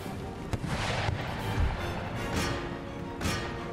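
Artillery bombardment in the Empire: Total War strategy game: a series of heavy booming blasts, about five, spaced irregularly over a continuous low rumble of battle, fairly loud and with no talk.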